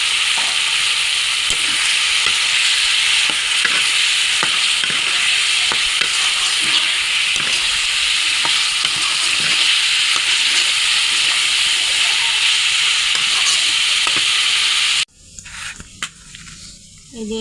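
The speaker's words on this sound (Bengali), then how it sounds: "এখানে মশলার সাথে দিয়ে দেবো একটু কষানোর জন্য।" Fried taki fish sautéing with spices in a pan gives a loud, continuous sizzle and hiss with occasional stirring scrapes, cutting off abruptly near the end to quieter kitchen sounds.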